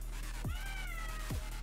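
A cat gives two drawn-out meows in a quiet room, each opening with a low rising sweep and holding a wavering tone, faint and fairly close, with no voices.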